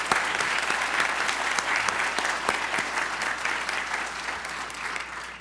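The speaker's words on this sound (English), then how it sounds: "let's give him a round of applause for his fantastic leadership" A seated audience at a law school event applauds a departing leader with a steady round of clapping, fairly distant and moderately loud, holding evenly for the whole stretch without talk.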